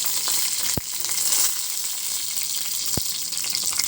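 Peanuts frying in a pan alongside dried red chilies, garlic and dry coconut, giving a steady close sizzle with two brief sharp clicks.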